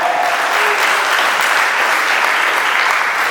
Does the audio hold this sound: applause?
yes